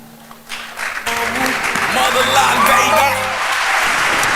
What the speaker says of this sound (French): on va recevoir la candidate suivante sous vos applaudissements, s'il vous plaît